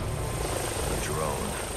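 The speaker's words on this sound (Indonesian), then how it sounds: "Drone." A drone flies overhead in the Batman Arkham Origins video game, a steady whirring rotor hum holding evenly throughout at moderate loudness, with a faint tonal whine above it.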